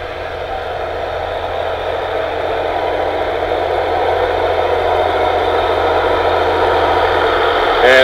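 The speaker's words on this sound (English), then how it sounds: "a nice restored farm tractor pulling a rubber-tired wagon" A restored 1975 farm tractor pulls a rubber-tired wagon in a county fair parade, its engine a steady mid-pitched drone that grows slightly louder as it approaches and holds for several seconds.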